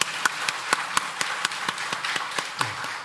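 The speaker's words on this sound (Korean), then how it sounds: "우리 박수로 환영하겠습니다." Church congregation clapping in welcome for a newly registered member during a Sunday service, a steady run of sharp, fairly distant handclaps at an even, moderate pace with no talk over it.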